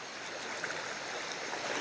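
Rushing river water in Ecuador flows steadily and evenly nearby, a continuous broad hiss of a moving stream with no pauses.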